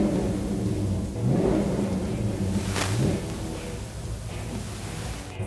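A 1965 Chevrolet Chevelle ProTouring convertible engine rumbles steadily up close, with a couple of rising revs pushing the pitch up before it settles back to a loud idle.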